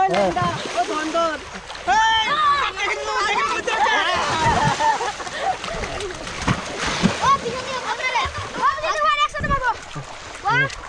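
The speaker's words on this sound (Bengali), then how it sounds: "কত লোকজন চলে আসছে এই জায়গায় স্নান করার জন্য।" A crowd bathes in open water at a popular spot near Raiganj, with repeated close splashing and sloshing. Lively voices and shouts overlap throughout.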